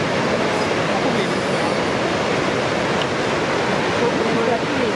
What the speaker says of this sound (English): listening to the crashing of the water as you make your way to the falls.